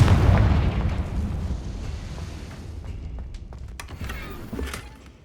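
A Confringo fire spell explodes in the Hogwarts Legacy video game: a heavy, deep boom that hits hard at the start and then rumbles and fades, with a few small crackles near the end.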